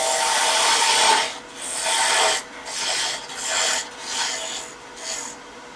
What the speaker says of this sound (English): I'm going to use a parting tool and then come back and clean it up later.